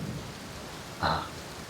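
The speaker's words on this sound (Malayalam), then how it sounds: "പുറത്ത് മഴ തകർക്കുകയാണ്." Steady rain falling outdoors, a soft constant wash of drops with a brief louder gust of splashing partway through.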